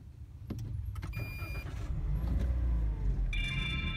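Car engine cranks and starts after a few clicks, settling into a low steady idle inside the cabin, heard from a car fitted with a dashcam.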